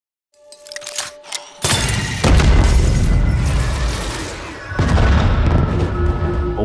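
Heavy explosions in the animated series Arcane: a loud booming blast with crackling debris hits suddenly, followed by a second surge and a later rumbling burst, sustained and dense throughout.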